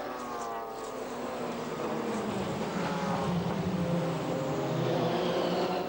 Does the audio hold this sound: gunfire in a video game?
no